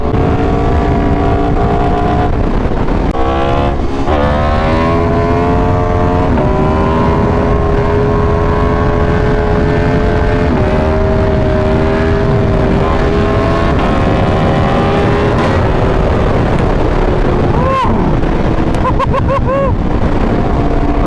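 Motorcycle engine revving loudly from close range while being ridden, a constant rough roar with rising and falling pitch, briefly dropping then surging near the end; the bike has a fault.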